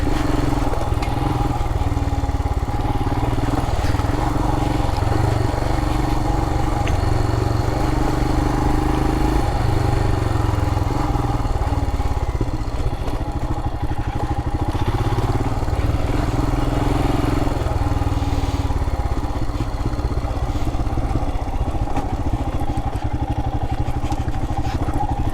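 A 2021 Royal Enfield Himalayan BS4 motorcycle rides along a dirt trail, its engine a steady, close, continuous drone with faint clatter and no real change in pace.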